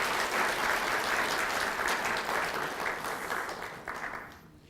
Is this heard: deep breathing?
no